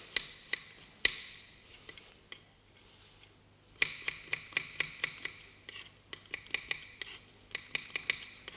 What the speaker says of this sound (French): On coupe les carottes là encore.